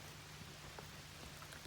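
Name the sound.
rain falling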